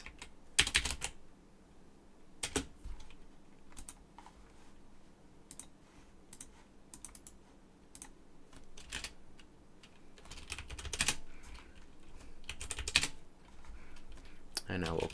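Computer keyboard typing at a terminal while setting up a web portfolio project, with irregular bursts of close clicking keystrokes and pauses over a low room hum, some faint talk in the background.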